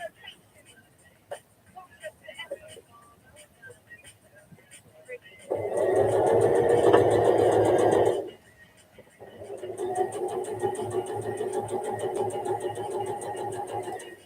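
A sewing machine runs in a steady buzzing burst for about three seconds while stitching a fabric heart for hospitals, pauses, then resumes more softly around the curved top; voices and handling noises come before it.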